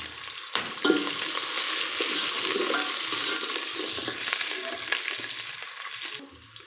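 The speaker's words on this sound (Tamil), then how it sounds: "பூண்டு ரோஸ்ட் ஆன உடனே பச்சை மிளகாயும் சேர்த்திடலாம்." Garlic and green chilies sizzle steadily in hot oil in a pan for a village-style pumpkin rice, a continuous close frying hiss with a few soft clinks and no talk.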